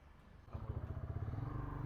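A motorcycle on a Kolkata bike taxi trip starts up quietly, then settles into a steady, low, pulsing idle.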